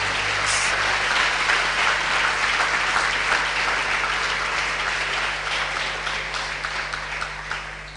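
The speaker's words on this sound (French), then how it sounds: "Let's clap for the Lord." A congregation claps for the Lord at a church gathering, a dense sustained wash of many hands, loud and close, slowly thinning toward the end with no clear talk.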